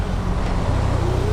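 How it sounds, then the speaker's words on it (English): Dense road traffic rumbles steadily around a rider, a close low engine drone with a faint rising whine near the end, and a voice speaking over it. "now we have a real traffic"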